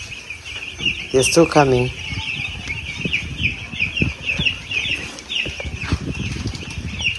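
Chicks on a poultry farm chirp and cheep continuously in a dense chorus, with a brief louder rooster-like call early on and a person speaking briefly over the flock.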